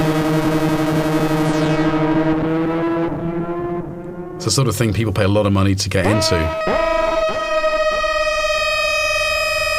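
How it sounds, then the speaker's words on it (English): Droning synthesizer oscillators form a sound bath: sustained layered tones glide and shift, then swell into a dense, buzzing cluster before settling into a steady high drone. Someone speaks over it. "A lot of people kind of droning their oscillators."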